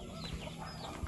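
Chickens on a farm clucking softly in the background, a faint, continuous bed of low fowl chatter with no one speaking.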